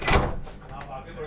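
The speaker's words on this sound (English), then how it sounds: "The door is closing." A Vande Bharat Express (Train 18) carriage door closes with a short, loud thud and slide near the start, settling into the quieter hum of the train interior, with a voice present.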